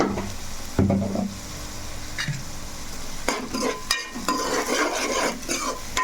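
Onions frying in a pan with salt added, a spatula stirring and scraping through them over a steady sizzle; close, fairly loud strokes come in irregular bursts, with no talking.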